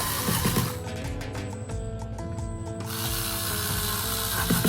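Screws are turned back into the casing of an old home theater system being refurbished, giving a steady close ratcheting, clicking mechanical sound that runs throughout with no talking.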